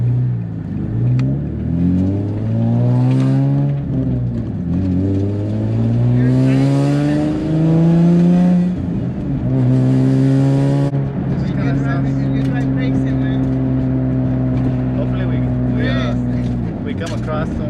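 A single-turbo Nissan 350Z HR pulls hard from inside the cabin, its engine note climbing through several rising sweeps with gear changes between them, loud and steady under people talking.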